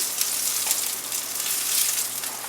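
Pork meatballs searing in olive oil in a pan give a steady, close crackling sizzle with a soft bubbling hiss and no voices.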